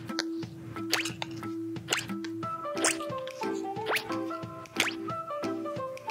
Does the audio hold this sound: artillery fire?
no